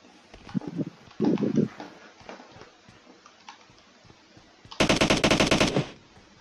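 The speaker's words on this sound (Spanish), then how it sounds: "¿Dónde disparan? ¿Quién dispara?" Gunfire in the mobile game PUBG Mobile: scattered single shots, then a long loud burst of rapid automatic fire near the end, with faint game noise in between.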